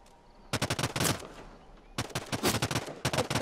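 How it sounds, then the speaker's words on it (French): Rapid gunfire from the Realm Royale battle royale game crackles in two sharp automatic bursts a second apart, loud and close, with a further short volley at the end and no talk. "on me tire dessus"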